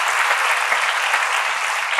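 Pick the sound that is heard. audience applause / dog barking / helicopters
audience applause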